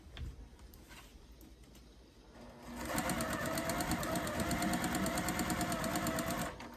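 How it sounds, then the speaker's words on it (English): A sewing machine stitches quilt pieces for a sampler quilt, starting after a quiet stretch and then running steadily and close for several seconds with a fast, even buzz. "Yep, I gotta sew them together."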